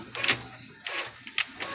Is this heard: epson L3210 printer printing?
yes